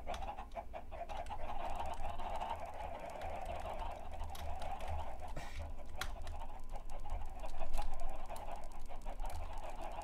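Many Minecraft chickens cluck together in a video game world, a continuous dense layer of clucks over a low steady hum, with no talking.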